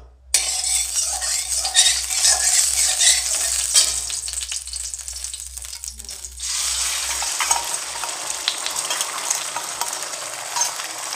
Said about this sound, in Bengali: ঝুড়ো ঝুড়ো করে ভেজে রেখে দেবো।